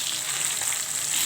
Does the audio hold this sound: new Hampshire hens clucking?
no